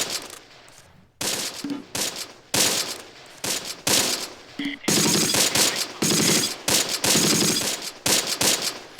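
Gunfire and cannon blasts in the World War II video game Close Combat as Panzer IV tanks engage a Sherman: repeated loud, close bursts and booms in an irregular rhythm that carry on throughout.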